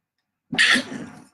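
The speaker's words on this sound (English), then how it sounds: "Excuse me for that sneeze" A single sharp sneeze bursts out close to the mic, followed by a brief breathy tail, with silence before it.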